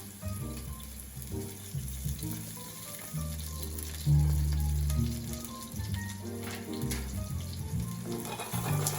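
Scallops fry in olive oil in a hot nonstick pan, making a soft sizzle that stays partly masked by background music playing throughout.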